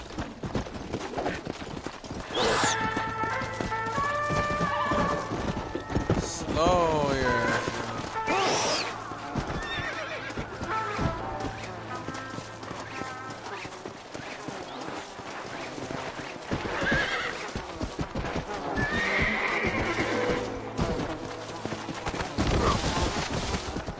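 A horse in the video game Red Dead Redemption neighs and its hooves clip-clop along, mixed with bursts of gunfire and crashes across a long, busy stretch.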